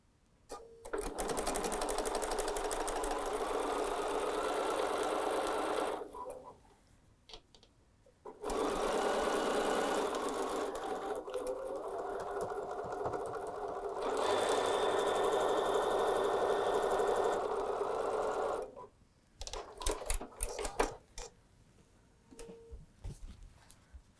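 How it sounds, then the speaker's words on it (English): Sewing machine stitching a quarter-inch seam on a fabric pin cushion, running in three steady buzzing bursts separated by short pauses, loud and close with no talk. "Let's go sew a quarter of an inch again."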